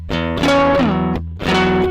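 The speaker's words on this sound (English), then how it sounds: "I'm doing these octaves. I have more distortion. It's like heavier." A heavily distorted electric guitar plays octaves from a song, loud and close, with a couple of sustained, gritty notes separated by brief, sharp gaps.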